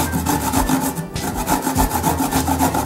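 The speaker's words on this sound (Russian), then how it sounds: "берем огурчик наш и трем его на терочку" Cucumber rubbed on a kitchen grater for a face mask, with a steady, fast rasping scrape repeating in quick strokes, close and continuous throughout.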